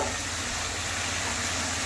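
Steady, dense sizzling of broccoli frying with spring onions in a pan, continuous and close with no pauses.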